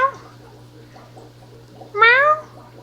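An old 15-year-old female cat gives a clear, fairly loud meow near the end, after a stretch of quiet room sound with a steady low hum beneath.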